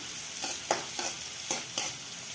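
Small chopped onions fry in oil with a soft continuous sizzle, broken by several stirring scrapes at an even pace.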